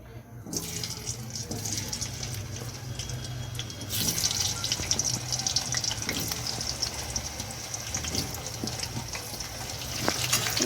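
Potatoes frying in hot oil in a kadai for a chicken and potato curry, a steady close sizzle that grows louder after a few seconds, no speech.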